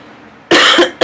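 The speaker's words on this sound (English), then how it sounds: "this cough" A woman gives one loud, harsh cough close to the microphone after a quiet pause, followed by the start of a second cough.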